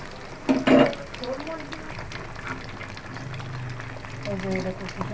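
Chicken pakoras frying in hot oil give off a soft, continuous sizzle. A brief clatter of utensils comes early on, and a voice talks over the frying.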